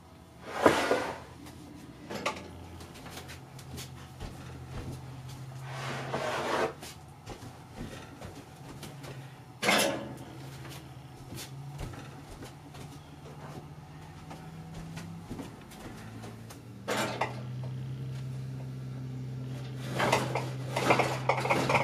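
Glass canning jars and metal lids clink and rattle as they are set into an oven, with repeated close clattering bursts, a door or rack thud, and quieter handling in between.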